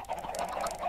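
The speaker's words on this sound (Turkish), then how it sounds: "Tavukların sesi de geliyor." Brief soft clucking and cooing of Minecraft video game chickens, a few low murmuring calls in quick succession, fairly close.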